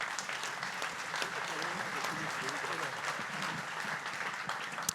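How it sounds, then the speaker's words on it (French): Audience at a hospital dinner-conference in Rennes applauding the scientific committee president, a sustained, fairly faint patter of many hands clapping with a few voices mixed in underneath. "je vous demande d'applaudir le président du comité scientifique"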